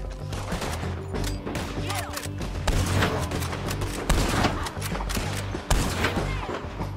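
Gunfire in the video game Red Dead Redemption 2: dense, rapid volleys of loud shots and booms layered over game music and ambience, with faint voices now and then.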